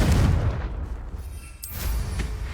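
A Confringo blasting curse explodes in the Hogwarts Legacy video game, a heavy booming blast at the start that rumbles off, followed by a couple of sharper crackling bursts later, loud and close.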